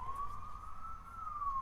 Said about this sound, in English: and I hear sirens